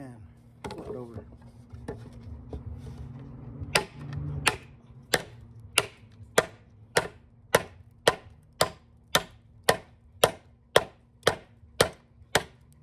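An Mtech Xtreme Raptor knife chops into wood with sharp, evenly spaced strikes, about fifteen crisp close impacts in steady rhythm, following a stretch of muffled handling and low background hum.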